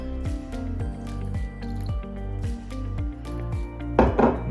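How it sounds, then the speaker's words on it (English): Juice from two lemons poured onto granulated sugar, a soft wet dribble and squish that sits low under steady background music, with a brief splashier burst near the end. "I'm going to add the juice of 2 lemons to 175 grams of granulated sugar."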